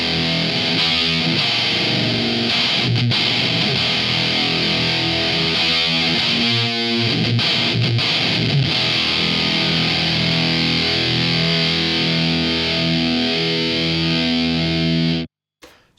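Heavily fuzzed electric guitar through a Poison Ivy octave fuzz pedal on the bridge pickup, thick synthy octave-doubled tone, sustained chords ringing for a long stretch before cutting off abruptly.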